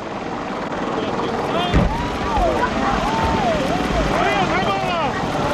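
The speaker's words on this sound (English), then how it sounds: "the British Army Apache Attack Helicopter" A British Army Apache attack helicopter drones steadily in the background at the Yeovilton Air Day 2017 air show, as someone talks over a loudspeaker, the engine noise holding level throughout.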